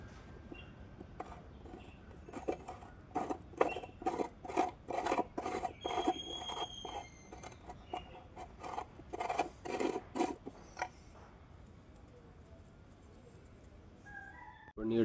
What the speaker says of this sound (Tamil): கிரைண்டிங் பண்ணி மேல் பகுதியும் தேய்ச்சி எடுத்தாச்சு